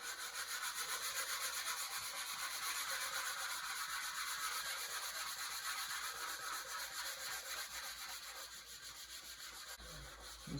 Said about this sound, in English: I'm going to take my hard brush side and I'm going to give this thing a good scrubbing